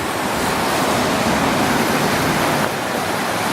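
High spring flood water of the Ausable River rushing past a bridge, a loud continuous broadband roar with steady churning and no breaks or voices.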